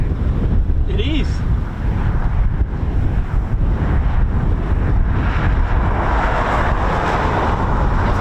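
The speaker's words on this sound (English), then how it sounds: "Oh, it's a bit windy, isn't it?" Strong wind buffets the microphone outdoors at a crowded King's birthday Trooping the Colour event, a constant heavy roar that covers the whole stretch with no clear speech.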